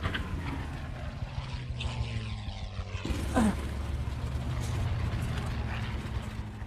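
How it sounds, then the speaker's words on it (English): WWII fighter planes in a dogfight over the Dunkirk beaches: a steady droning propeller engine roar, with an engine swelling closer and passing partway through and no talking. "British aircraft relentlessly chasing and tailing German planes amid continuous gunfire"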